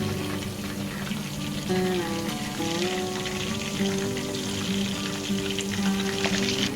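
Chicken 65 pieces frying in oil over a low gas flame give a steady, close sizzle for the whole stretch, with a faint melodic hum running underneath.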